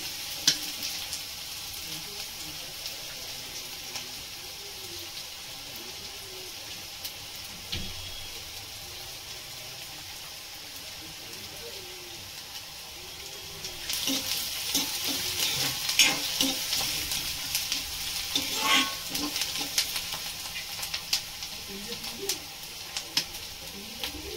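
Onions fry in a pan for a Marathi-style brinjal and green bean curry, a steady sizzle with occasional stirring scrapes that grows louder and busier about halfway through.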